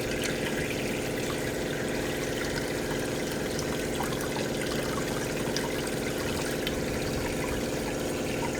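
Water running steadily from a camper shower that leaks, a continuous close hiss and trickle of spray with a faint pump-like hum underneath, no voices.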